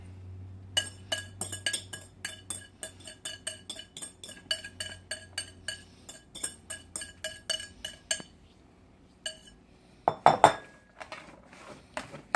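Utensils clinking against a big platter as shredded coleslaw is tossed and mixed, a run of quick light clinks and scrapes in a quiet kitchen, pausing before a louder clatter near the end.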